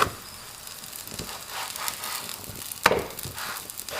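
A Mongolian meat pie fries on a hot griddle, giving a soft, steady sizzle and light crackle with a single sharper tick near the middle, close and fairly quiet with no talking.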